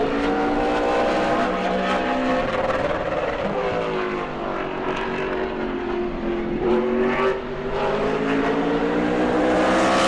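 Super late model race car on a qualifying lap at New Smyrna, its engine a loud continuous roar with rising and falling pitch as it goes around the track, no voices.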